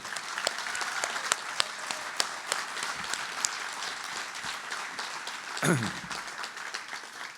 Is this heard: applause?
yes